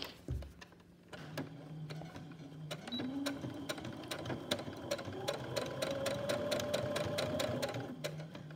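A sewing machine stitches a quarter-inch seam around the outside edge of a fabric rhino mask, a close, steady motor whir with rapid needle ticking that climbs in pitch as the stitching speeds up, running alone without talk.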